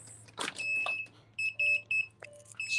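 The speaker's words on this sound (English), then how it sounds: "I'm turning off the alarm." An alarm beeps in repeated short tonal bursts, bright and electronic, with a few rustling handling noises between the beeps over a faint low hum.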